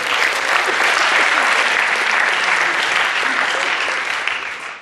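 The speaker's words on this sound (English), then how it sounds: "Give them a big round of applause." A crowd applauds steadily and loudly for about five seconds, the clapping dense and sustained before tapering slightly at the end.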